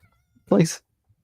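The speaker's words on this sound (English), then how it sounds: "I think you can hear the meows." A cat gives a single short, fairly loud meow close by, in an otherwise quiet room.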